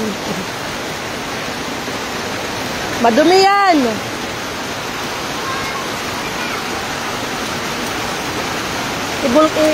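A steady wash of heavy typhoon rain roars throughout, while a short spoken remark and a rising-falling voice cut in over it near the middle and another voice briefly at the end.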